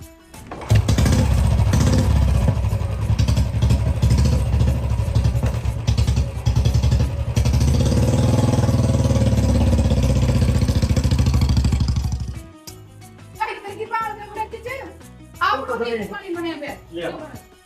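A motorcycle engine fires up loudly and runs close by for several seconds, then cuts out before people start talking.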